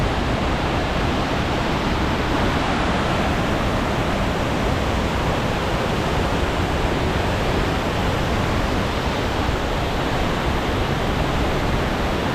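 Waterfalls in the heart of Oslo, a steady, dense rush of falling water that stays loud and unbroken, with no voices over it.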